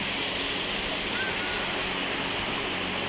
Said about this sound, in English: this is a cascata. We are here. Waterfall.